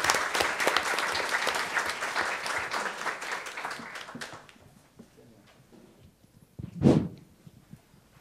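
Audience at a conference session claps in welcome for a speaker, a dense burst of applause that fades out over about four seconds, followed by quiet and one louder thump.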